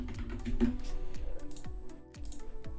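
Keys clatter on a computer keyboard as text is typed, a quick run of close, crisp clicks and taps with a short pause near the end.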